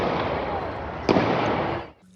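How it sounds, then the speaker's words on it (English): A sharp gunshot cracks once amid a dense crowd din at a downtown street protest in Salt Lake, the loud hubbub of demonstrators surging briefly after the shot before cutting off abruptly. "sudden gunfire stunned everyone. He fired several shots."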